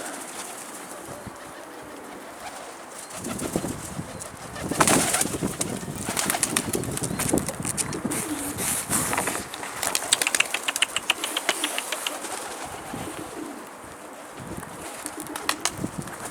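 Pigeons coo at a coop, with bursts of wing flapping and fluttering scattered through, moderately close and steady, with no one talking.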